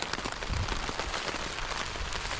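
Rain patters steadily on a backpacking tent at a rainy campsite, a close, dense crackle of drops on fabric with no voices over it.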